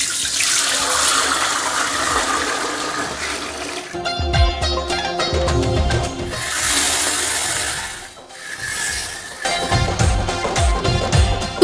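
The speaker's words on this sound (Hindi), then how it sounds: "तो पानी हमने रख दिया है भगोने में, और उसमें डाल दी है चीनी।" Water pours in a strong, splashing stream into a large pot, sugar already in the pot, for making sugar syrup. The gush rises and falls in bursts with a short break midway, loud and close, with no talking.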